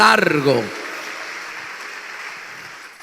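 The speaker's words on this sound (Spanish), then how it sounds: "Dele un aplauso al que vive en esta hora." A church congregation applauds during a sermon, a sustained wash of clapping from a crowd right after a brief spoken voice, holding steady for a couple of seconds.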